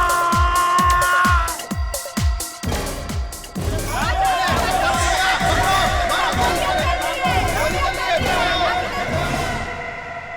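A noisy crowd in a busy indoor-sounding space, loud and continuous, with overlapping shouts, chatter and excited cries layered with a rhythmic background score for most of the stretch.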